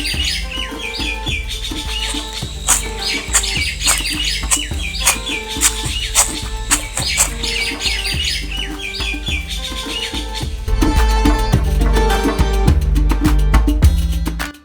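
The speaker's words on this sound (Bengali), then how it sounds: "একদিকে পাখির ডাক" Cartoon forest birdsong: loud, continuous chirps and tweets repeating in quick runs over a steady tonal backdrop, growing denser toward the end, with no voices.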